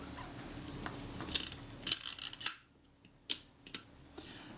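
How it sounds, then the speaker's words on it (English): Shutter of a Voigtländer Vito B camera under repair firing, several sharp mechanical clicks and short whirring releases, close and quiet, alone in a still room. "Shutter appears to work."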